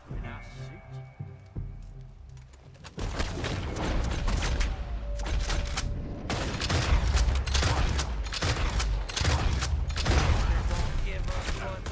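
Gunfire in Red Dead Redemption 2 bursts in after a quieter opening, repeated sharp shots in a busy, loud stretch mixed with game sounds and character voices.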